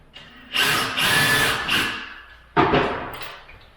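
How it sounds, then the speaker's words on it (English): A power drill whirs for about two seconds, trails off, then bites again in a second shorter burst, close and loud, drilling into a wall stud for an upper kitchen cabinet. "One more hole to drill here."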